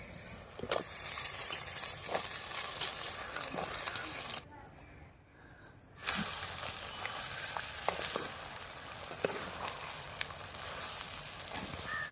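Chopped brinjal pieces frying in a pan with ginger and onion, a steady close sizzle with a few stirring clicks and a brief quiet gap partway through.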